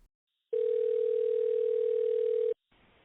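A steady telephone dial tone, heard before an automated assistant's call to a hairdresser, hums for about two seconds, loud and unbroken, then cuts off abruptly into quiet line noise.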